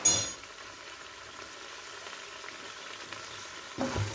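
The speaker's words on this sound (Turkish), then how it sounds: "Tekrar şöyle bir alt üst edip sotelemeye başladık" Kidney bean dish with pepper flakes sautéing in a pan, a faint steady sizzle bracketed by louder stirring clatters at the start and end, no talking.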